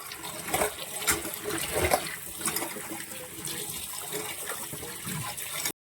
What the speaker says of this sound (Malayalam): ഇനി നമുക്കിത് നന്നായിട്ട് കഴുകി നമുക്ക് വേവിക്കാനായിട്ട് വെക്കാം.